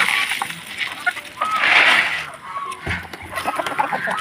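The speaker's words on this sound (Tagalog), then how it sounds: "Ito namang mga manok natin." Chickens cluck and call close by at feeding time on a small farm, busy overlapping clucks with a scattering splash or rattle of feed partway through.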